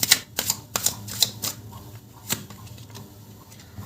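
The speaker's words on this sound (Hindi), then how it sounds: "आपके लिए कार्ड्स निकालते हैं" Tarot cards being drawn and shuffled during a candle wax reading, heard as a run of sharp, close card snaps and flicks, irregular and fairly loud, with quieter handling in between and no talk.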